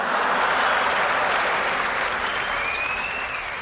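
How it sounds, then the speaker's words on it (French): A crowd applauds with dense, steady clapping that stays loud throughout and eases off slightly toward the end, with no talking over it. "La foule l'acclama."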